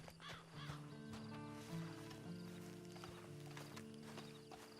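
In the video game Red Dead Redemption 2, hooves clip-clop at a steady walk beneath a sustained musical score, with a horse's whinny rising briefly above the music.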